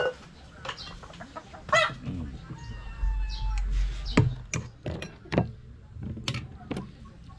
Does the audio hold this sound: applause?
no